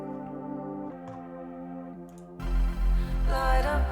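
A piano and bass phrase plays from a drum and bass remix with the drums muted, a sustained piano line that gives way to a much fuller passage with heavy low bass swells.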